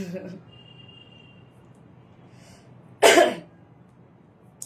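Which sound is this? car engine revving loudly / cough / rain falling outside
cough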